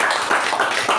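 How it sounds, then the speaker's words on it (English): Applause from an audience at a club meeting, a dense, steady patter of many hands clapping, loud and close with no pause, and no talking over it. "Let's give a bigger round of applause to both of"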